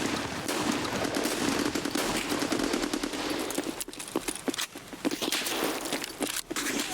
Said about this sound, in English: Sniper scav shooting at us?